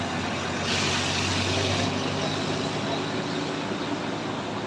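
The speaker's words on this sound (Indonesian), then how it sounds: "Farel lagi bawa truk." A truck engine rumbles steadily as it climbs the Sitinjau Lauik mountain road, with a broad roadway hiss and a brief brighter burst of noise early on.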